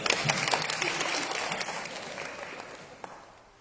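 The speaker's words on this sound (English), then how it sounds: "You get to clap for that." Short burst of audience clapping at a road safety meeting, fairly quiet and tapering off within a few seconds.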